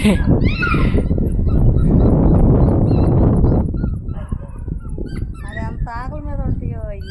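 Seven dogs being fed rice whimper, yip and bark close by, a steady whining chorus that thins out partway through while a person talks over it.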